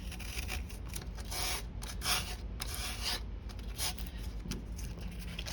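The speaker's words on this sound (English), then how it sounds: "First I'm gonna start off with dry sanding just to get everything, get most of the surface down" Dry sanding of a curb-rashed wheel by hand with 80 grit sandpaper, a close, raspy back-and-forth scraping in uneven strokes with short pauses between them.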